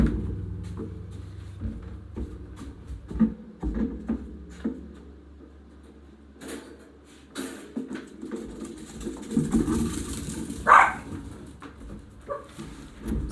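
A dog barks and yips repeatedly inside a home, with irregular bursts and whimpers spread across the stretch, some loud and close, amid quiet room noise.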